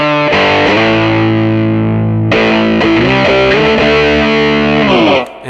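Electric guitar through a Menatone Fish Factory Dual Drive overdrive pedal with gain maxed plays sustained, fuzzy chords, a pause, then more crunchy strummed chords ringing loudly before cutting off.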